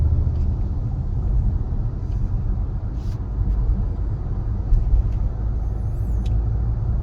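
SsangYong Torres SUV on a test drive, giving a steady low engine and road rumble from inside the cabin, continuous and fairly loud with no talk.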